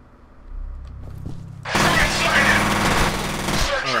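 Heavy automatic gunfire from the F.E.A.R. shooter game erupts loud and dense after a quieter stretch of low rumble, a sustained burst of rapid shots and combat noise.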